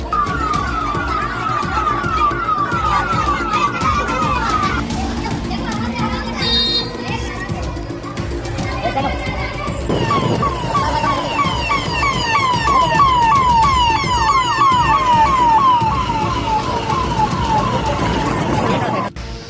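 A loud, wavering ambulance siren wails almost continuously at a firecracker factory blast in Harda, Madhya Pradesh, dropping away briefly mid-way before returning, over background street noise.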